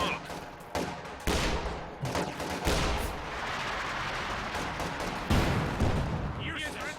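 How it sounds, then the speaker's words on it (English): Infantry support gun shots in Company of Heroes 2 land in a busy battle, with heavy booming impacts over continuous gunfire and rumble, while a caster talks over the action. "Oh, two ISG shots connect."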